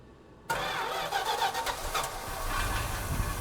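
A 1974 Plymouth Cuda that has sat unsold in storage for 52 years cranks hard on its starter, a steady churning whir rising to a loud, near, continuous grind that keeps going without catching.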